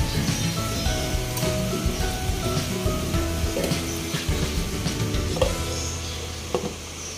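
Chicken with vegetables sizzles steadily in a pan while being stirred, a continuous, moderately loud frying hiss with light knocks from the spoon throughout.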